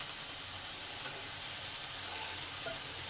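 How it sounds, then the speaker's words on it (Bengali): Snake gourd pieces fry in hot oil with salt and turmeric, giving a soft, even sizzle and hiss that carries on steadily without talk. "তেল গরম হলে তেলে চিচিঙ্গাটাকে দিয়ে দিলাম।"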